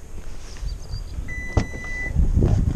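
Toyota hybrid estate's motorized tailgate operating: a soft whirring motor runs with a thin electronic tone, a sharp click midway, then louder mechanical movement at the end, close and alone.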